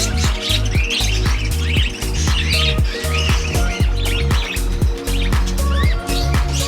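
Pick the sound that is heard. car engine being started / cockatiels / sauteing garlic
cockatiels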